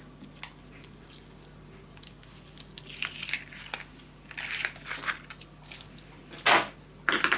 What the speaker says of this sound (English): release the tape